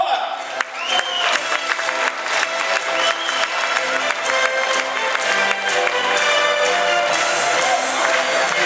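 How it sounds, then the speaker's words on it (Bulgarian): Steady, dense audience applause fills a large hall at a Miss Bulgaria gala ceremony after a Škoda Citigo car is presented, holding at an even volume throughout with faint voices underneath. "вашите аплодисменти за господин Роман Полак"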